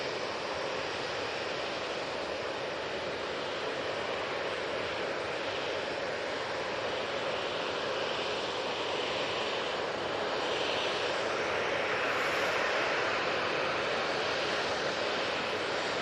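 An Airbus A320neo jet lining up for takeoff at Manchester Airport, its engines giving a steady, even broadband roar that holds at constant loudness throughout, distant rather than close, with no voices.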